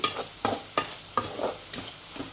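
Masala and reddened onions being stirred quickly in a hot pan, with a spoon scraping in repeated sharp strokes over a soft sizzle, close and fairly quiet.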